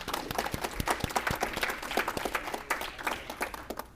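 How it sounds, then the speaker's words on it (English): Applause from an audience at a College Republicans convention, a dense continuous patter of many hands clapping throughout, steady and fairly loud with no voices on top. "Give yourselves a round of applause for that."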